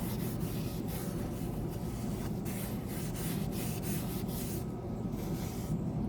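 Oil is rubbed by hand into a black walnut wooden spoon, producing a soft, steady, close rubbing and swishing sound in repeated strokes.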